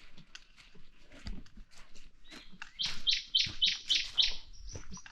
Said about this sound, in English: a blue mantle crested flycatcher. That's his call.